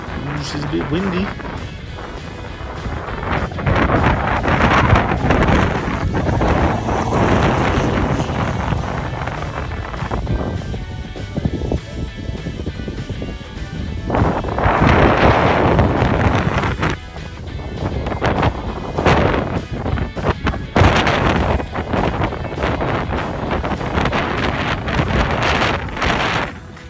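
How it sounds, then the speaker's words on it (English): Strong wind buffets the microphone throughout at an outdoor off-road desert race in Kalgoorlie, a constant loud roar with gusty surges, while people talk over it. "She's a bit windy."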